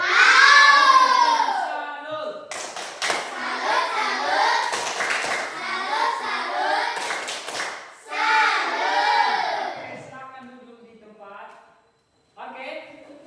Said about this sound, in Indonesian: beri tepuk salut